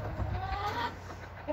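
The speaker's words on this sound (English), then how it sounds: "we're gonna let chickens out now" Homestead chickens clucking softly, a few short, faint, quavering clucks close by over a quiet background, with a small sharper call near the end.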